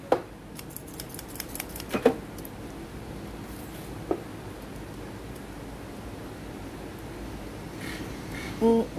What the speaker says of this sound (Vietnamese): Em kiếm giấy em cắt thử cho anh em xem ha.